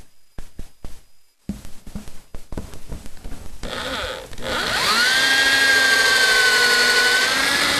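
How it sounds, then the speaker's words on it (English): A power drill whirs in short stuttering bursts during cartridge case prep, then runs continuously at a high steady whine, spinning freely without biting. "the drill will just kind of sit there and spin and not drill out anymore"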